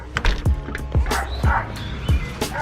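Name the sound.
dog barking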